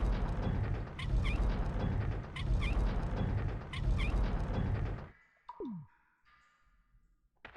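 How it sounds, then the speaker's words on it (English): A black cat from the 1996 PlayStation game Resident Evil gives a sharp, brief yowl after a stretch of dense game noise. The cry stands out alone, fairly loud, followed by quieter ambience. "It's the black cat."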